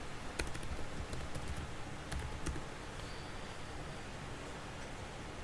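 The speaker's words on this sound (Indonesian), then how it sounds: "di sini kita disuruh untuk mengetikkan ipconfig" Keys on a computer keyboard are tapped in a short burst of clicks over a steady background hiss, with the typing faint and close and no talk.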